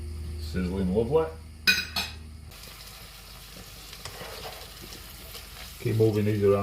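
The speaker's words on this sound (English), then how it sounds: "Sizzling lovely." Woodpigeon meat sizzles in a hot frying pan with a steady hiss, while utensils clink and scrape against the pan; someone speaks briefly at the start and again at the end.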